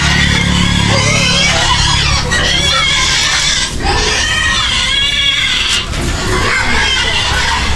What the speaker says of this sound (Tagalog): Gutom na mga baboy yan eh